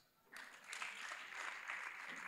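A crowd breaks into applause that starts abruptly and continues steadily at moderate volume, sounding somewhat distant.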